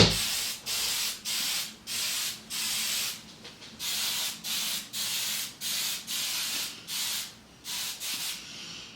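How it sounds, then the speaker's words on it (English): Short hissing bursts of hairspray, about fourteen in a row with brief pauses between them, close by and fairly loud. "I spray it like this. More hairspray."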